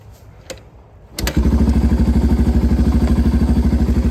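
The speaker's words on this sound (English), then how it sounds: "I'll start it up here real quick" A 1985 Yamaha BW200 motorcycle engine catches after a short quiet lead-in and settles into a loud, steady, fast-pulsing idle that stays close and even through the rest of the clip.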